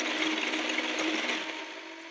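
The motor of a Dart Zone Covert Ops Scorpion toy blaster whirs steadily, with a rapid mechanical chatter as the belt feed runs, fading slightly toward the end, with no speech.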